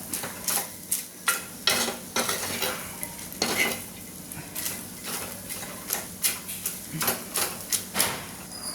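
Pappadam thoran being stirred in a pan, with quick repeated scraping strokes of a spoon over a soft background sizzle, close and fairly loud in an irregular rhythm.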